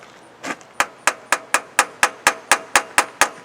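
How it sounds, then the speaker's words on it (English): A hammer strikes the carburetor of a 1985 Iltis in a run of about twelve sharp metallic blows at a steady, quick rhythm, loud and close with short ringing decays, no talking. "We can fix everything with hammers."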